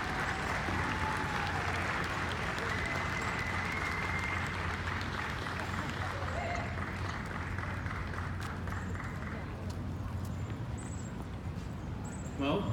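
Steady applause from an outdoor crowd at a rally opposing AB 2943, a continuous wash of clapping that lasts the whole stretch, with voices talking over it.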